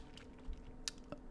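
A few scattered keystrokes on a computer keyboard, soft and close, over a low steady room hum, with no talk.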